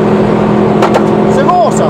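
A Subaru GC8 race car on the Dijon-Prenois circuit, engine droning steadily from inside the cabin, with a rising whine near the end as it accelerates, while a coach talks over it.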